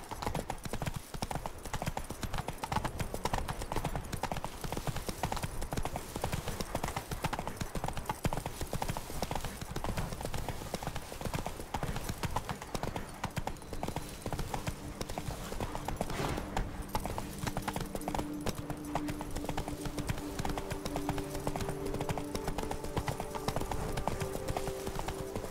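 Roach, the horse in The Witcher 3, gallops steadily throughout with loud, continuous rhythmic hoofbeats, overlaid by a soft game music bed.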